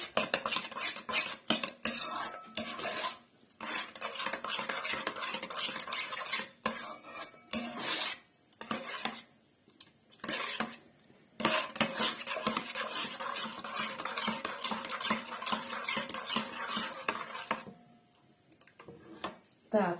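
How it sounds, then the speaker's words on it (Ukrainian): An egg being stirred into sour-milk dough batter in a bowl, with rapid irregular clinking and scraping of a utensil in bursts and brief pauses between them. "Так, яйце ми додали, розмішаємо його."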